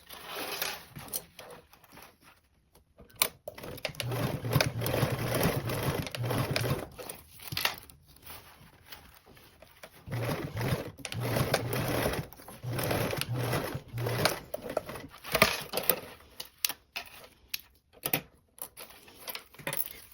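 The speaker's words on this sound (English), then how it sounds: "Now we're going to sew both of these sides again with that 3/8 seam allowance." A sewing machine runs in several bursts, stitching 3/8-inch seam allowances along the sides of a zippered pouch, with short pauses and fabric handling between runs of steady mechanical whirring.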